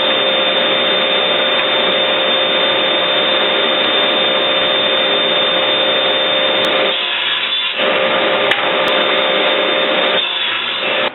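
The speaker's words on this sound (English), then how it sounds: "the first thing we got to do is get everything cut to size" A power tool cuts scrap material to size in a workshop, a loud, steady roar that runs the whole time with brief dips in tone as the cut load changes.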